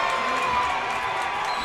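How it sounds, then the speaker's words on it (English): Basketball crowd at a high school sub-state game cheering loudly, a dense sustained roar of voices and shouts throughout, with an announcer talking over it. "The crowd is going wild right now."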